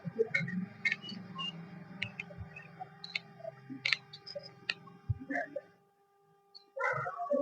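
Several dogs bark and yip in short irregular bursts, fairly close, with a brief quiet gap before more barking at the end.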